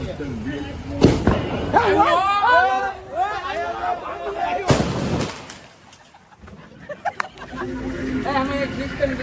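Firecrackers go off near people chatting, two sharp, loud bangs a few seconds apart, with animated talk between and after them.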